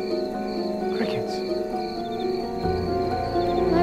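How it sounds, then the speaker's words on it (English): Dense nighttime chorus of chirping insects and croaking frogs, steady and layered, with a low rumble joining near the end and no clear speech. "Crickets."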